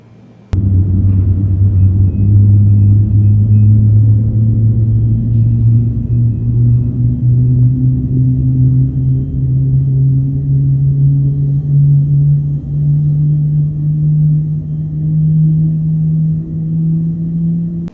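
Boeing 777 jet engine spooling up during a start in Microsoft Flight Simulator 2020, a loud steady low rumble whose drone slowly rises in pitch, heard alone.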